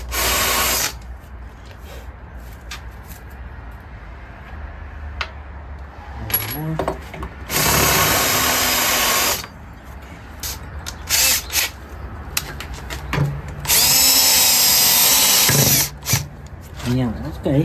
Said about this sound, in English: plus the part of the vise with two, I think it's 4 screws underneath. Screw it on.